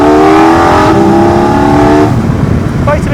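Car engine fitted with an aftermarket air filter revs loudly and steadily up close, with a deep, meaty drone through low RPM that eases off near the end, driving along a quiet road.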